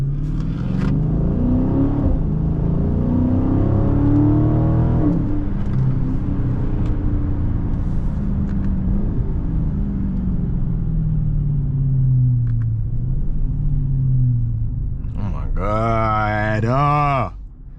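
A widebody Dodge Scat Pack, a roughly 500 hp car, rumbles loudly and steadily at close range, its engine drone holding under someone talking throughout, with a sharper rising rev swell near the end.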